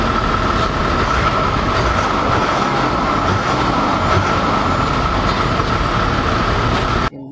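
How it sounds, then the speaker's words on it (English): A 2023 Mazda CX-60 AWD HEV turbo-diesel runs with a steady, loud, broadband roar and a faint tonal hum, continuous for about seven seconds before cutting off abruptly. "listen to this engine"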